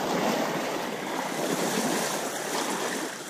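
Strong flood water rushing around a kayak, a constant broad hiss and roar of churning current, close and loud with some wind buffeting and no talk.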